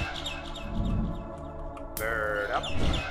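Bird calls in the video game Garten of Banban 6, rapid repeated chirps over a droning game soundscape, with a brighter burst of calls near the end.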